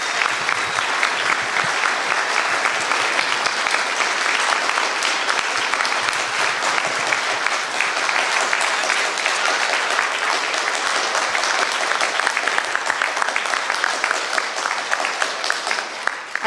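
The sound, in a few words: audience applause at a town hall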